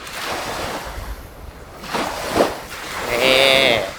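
Ocean waves wash and break in soft surges on the shore, recorded at the sea with a Sony ECM-B10 microphone held about one metre away, with wind buffeting the microphone, a couple of swells rising and fading.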